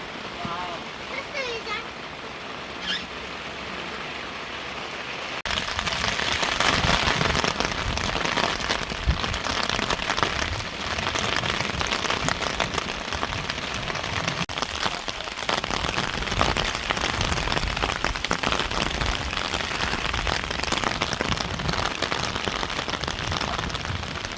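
Heavy rain drums on an inflatable air tent at a riverside autumn campsite, a dense, loud, continuous patter that swells sharply after a few seconds and keeps pounding steadily.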